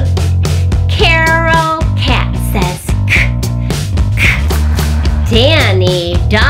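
Children's voices imitate a cat's meow during a classroom alphabet animal-sounds song, with rising and falling vocal meows over steady music.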